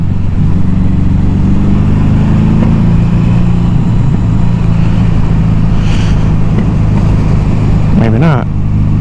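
A 1982 Suzuki GS750T motorcycle engine runs on choke with a steady, loud low rumble throughout, a brief sharper rev near the end, and some background talk.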